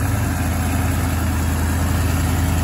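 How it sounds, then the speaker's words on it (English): A newly built Mopar small-block V8 engine idles steadily nearby during ignition timing, a loud low rumbling throb with an even, regular pulse and no voices. "if you listen to the engine, it's going to idle up as I advance it."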